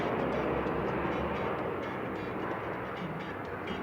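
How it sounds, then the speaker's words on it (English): A dense, steady mechanical roar like a helicopter passing overhead, broadband and constant with faint rhythmic fluttering throughout. "Thank you, helicopter."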